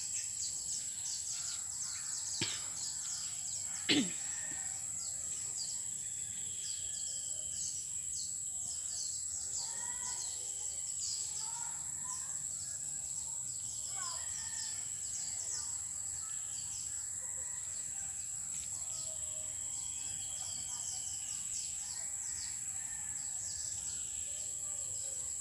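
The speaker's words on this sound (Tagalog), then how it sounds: "Daming ibon sa mangga." Many birds chirping in a mango tree, faint and scattered calls over a steady high insect-like hiss, distant and quiet throughout, with one or two sharper nearby clicks early on.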